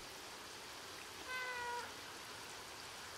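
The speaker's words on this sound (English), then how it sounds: "My gosh. They're meowing." A single short cat meow in the video game Stray rises briefly out of a steady hiss of background noise, faint and slightly distant, with no talking.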